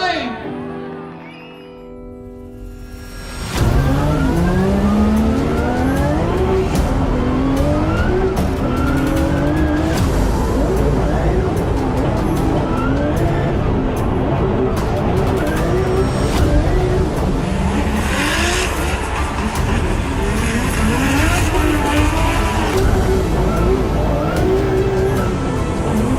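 Drift cars run at a drift event, engines roaring loudly and continuously with long tire squeals and skids after a quieter opening moment, crowd shouts faintly mixed in.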